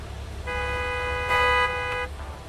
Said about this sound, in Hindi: हॉर्न पे हॉर्न ना मारते जा रहा है